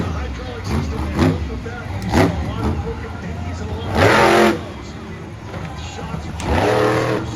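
Uproar monster truck engine revving hard during a freestyle run at a back-to-school bash event, with several loud surging bursts over a steady engine drone and crowd noise, the strongest swells coming midway and near the end.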